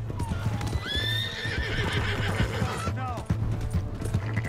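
A horse whinnies loudly while hooves clip-clop steadily in a Red Dead Redemption 2 game scene, with voices speaking over the animal.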